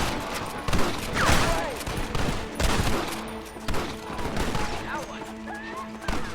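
A Red Dead Redemption shootout, with repeated gunshots and scattered bursts of fire at varying distances, mixed with shouting voices and the whine of ricochets.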